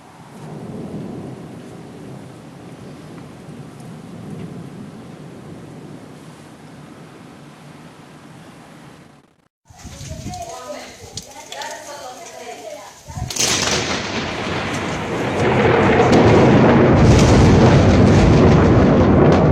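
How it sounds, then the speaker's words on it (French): Thunder during a snowstorm: a long low rumble of thundersnow rolls at first, then after a brief silence a closer crackling burst leads into a loud, sustained roar that swells and holds to the end. "orage de neige qui semble localisé"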